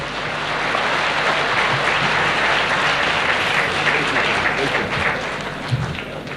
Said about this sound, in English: Give the applause to the children again.